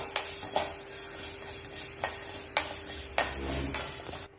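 Coriander seeds being dry roasted in a pan and stirred, with repeated scraping and clinking of a utensil against the metal, a steady faint hiss underneath, and no voices.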